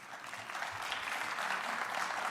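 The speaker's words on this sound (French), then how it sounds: "Vous avez le droit d'applaudir." Audience applause at a Les Républicains national council speech, a steady, moderately faint patter of many hands clapping from a sizable hall crowd.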